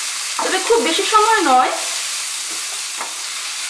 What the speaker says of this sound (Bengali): পিস্তা দিয়ে দিলাম। মিডিয়াম আঁচে এটাকে ফ্রাই করে নিচ্ছি,